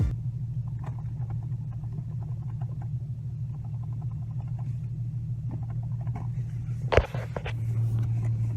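A used 2002 Acura RSX pulls up, driven by its seller, its engine a steady low rumble throughout with a single sharp thump near the end; no one speaks.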